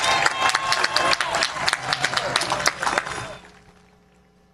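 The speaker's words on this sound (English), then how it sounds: "let's bring her out with a round of applause" Audience applause and cheering greet a contestant at a hoop dance championship, a dense roar of clapping lasting about three seconds before fading out to near quiet.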